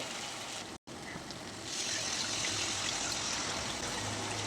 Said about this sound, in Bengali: এবার আমি একটু গরম জল দিয়ে দেব